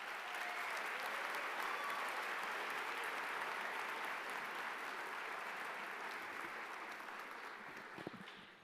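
A convocation audience in a hall gives a long, sustained round of clapping as a college dean walks to the lectern, dense and even throughout before tapering slightly at the end.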